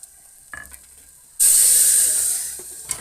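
Hot oil tempering poured into tomato dal sambar, a brief clink and quiet pause, then a sudden loud, close sizzle and hiss that gradually eases over a second or so.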